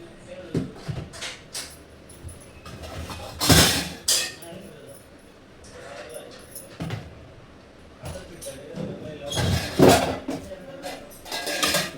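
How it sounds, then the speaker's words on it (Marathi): Steel utensils clatter and clink as they are stacked back into a steel storage tank while unpacking in a new home, with loud metallic bangs in bursts and quieter shuffling between. "ती सगळी भांडी परत मी जी स्टीलची टाकी आहे माझी त्यामध्ये मी सगळं सेट करून परत ठेवून दिलं"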